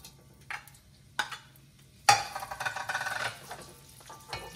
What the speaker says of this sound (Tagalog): Gigisa muna natin sa luya, bawang, sibuyas.